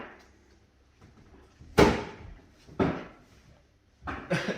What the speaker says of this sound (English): Can you open the door, Andrew?